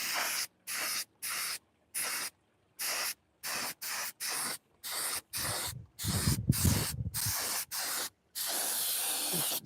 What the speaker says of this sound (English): I like doing an aerosol can